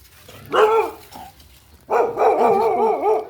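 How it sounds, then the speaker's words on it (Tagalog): Dogs bark in two loud bursts at a cemetery, the second longer with repeated yelping barks close by; no talking. "Yung mga aso."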